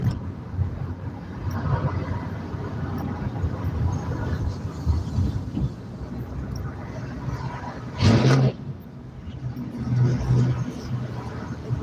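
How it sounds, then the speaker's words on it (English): A truck engine revs in a low, steady rumble that swells and surges near the end. "This truck right here keeps revving their engine up."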